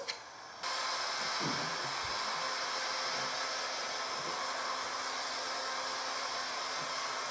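A heat gun post-heating vinyl wrap on a Nissan 350z roof, switching on with a click and then blowing as a steady, close, loud hiss that holds constant with faint handling knocks underneath.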